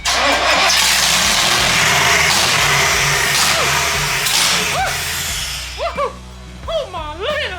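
A V8-swapped Miata roars loudly while cranking and running, a dense rumbling engine that fades and then breaks into sharp rising revs near the end, with voices talking over it.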